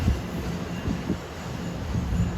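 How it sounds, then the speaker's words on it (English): New Jersey Transit express train rushing nonstop through Princeton Junction station, a steady close rumbling roar of wheels and cars with rhythmic low thumps, no talk. "This is one of those hotshot transit trains, 3943. Goes nonstop,"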